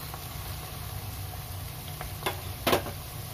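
Onions fry in a pan over high heat with a steady low sizzle, and a couple of brief stirring scrapes come near the end.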